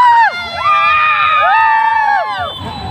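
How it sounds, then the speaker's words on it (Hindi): A crowd at a rain-soaked Dussehra festival in Gorakhpur yells and cheers together in a loud, brief burst of overlapping shouts and high-pitched voices, close and dense. "और एक बार सभी लोग चिल्ला दो"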